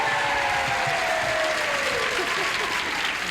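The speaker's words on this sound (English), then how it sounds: "They Those people are clapping for my husband" A 1970s television game show studio audience applauds for Bill Cullen, with dense, continuous clapping filling the room at a steady level.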